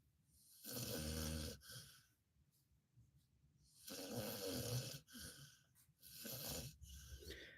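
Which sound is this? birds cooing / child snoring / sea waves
child snoring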